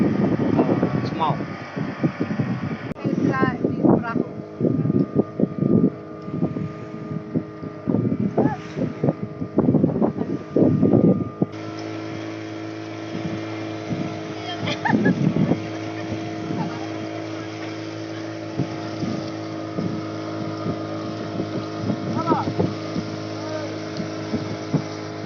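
A rented motorboat's engine drones steadily at sea near Semau, a constant close hum with wind buffeting the microphone and occasional voices over it.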